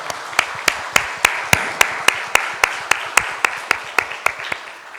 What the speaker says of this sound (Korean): 이들을 위해서 같이 감사의 박수 한번 하겠습니다.